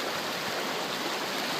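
Water rushes at a river crossing in Yosemite National Park, a loud, close, unbroken roar of flowing water with no other sounds.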